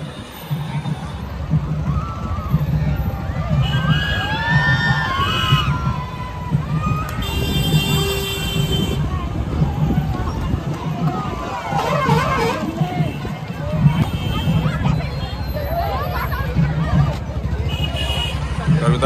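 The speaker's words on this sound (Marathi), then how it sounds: "गर्दी खूप खतरनाक जमलेली या ठिकाणी" A large crowd gathers for the grand opening of a band vehicle in Chopda town, making a loud, dense, continuous hubbub of voices and shouts throughout, with scattered higher calls rising above the mass.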